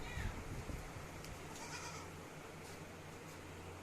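A goat bleats a few times in a noisy outdoor setting, the calls wavering and fairly faint against a steady background hum.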